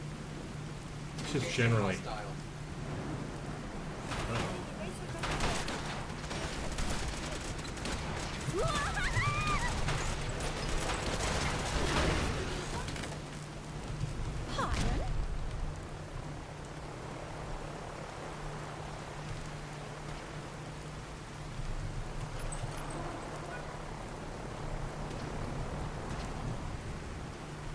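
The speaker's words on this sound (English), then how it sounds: "weather being one of them, which adds the rain audio, and thunder, which is fantastic" Rain falls steadily in a modded Fallout 4 game world, with low thunder rumbles and a few sharp game sounds early on, under a voice talking.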